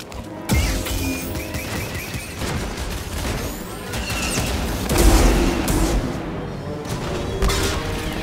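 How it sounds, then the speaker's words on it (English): An AT-ST walker firing during a fight on Zeffo in Star Wars Jedi: Fallen Order, with loud blaster bursts and heavy booming impacts at irregular intervals over constant battle noise and clanking. "We've got a walker firing on us, and our weapons are down."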